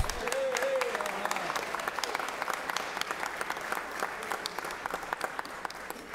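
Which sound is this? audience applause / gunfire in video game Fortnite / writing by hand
audience applause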